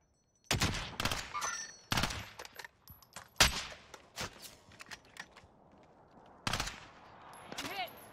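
In the Warzone trios match, gunfire comes in several loud, close bursts of rapid shots. Quieter pops and clicks fill the gaps between bursts, and faint game voice callouts can be heard now and then.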